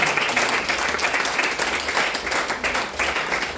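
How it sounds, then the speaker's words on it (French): Congregation at a French church service clapping and applauding together, a dense continuous wash of many hands filling the room at steady loudness. "Acclamons pour le Seigneur Jésus-Christ."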